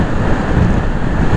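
Wind rushing over a motorcycle rider on a road trip near Ushuaia with a tailwind on a descending stretch, a steady loud buffeting roar close to the microphone.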